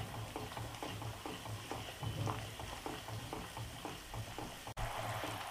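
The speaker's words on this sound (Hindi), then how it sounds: "जो दही है उसमें अच्छे से उबाल आ चुका है" Yogurt bubbles and sizzles as it boils in a pan while a spoon scrapes and stirs in a steady repeated rhythm, close up.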